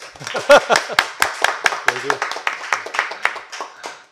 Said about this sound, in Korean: 박수는 이 방이 떠나갈 정도로 크게 치시는 게 좋거든요